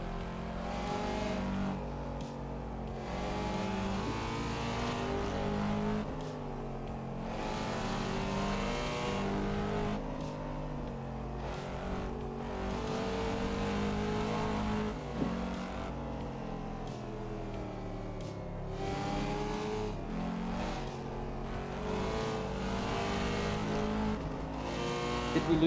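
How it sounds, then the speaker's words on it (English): Cadillac CT5 Blackwing engine in Assetto Corsa, a steady loud drone with rising and falling revs throughout, holding a continuous mechanical roar with shifts in pitch but no clear gaps. "I'm driving the Cadillac CT5B Blackwing."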